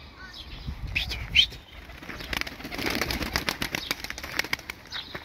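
A bird flaps its wings and takes off at close range, a brief flurry of wingbeats with chirps, followed by ongoing outdoor noise and scattered clicks.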